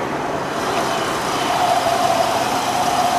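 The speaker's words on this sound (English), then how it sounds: "This truck has the V10 engine in it." Steady low rumble of a 1997 Dodge Ram 3500 dually's V10 engine idling nearby, with cold air intake, constant and unchanging, with a faint whine rising midway.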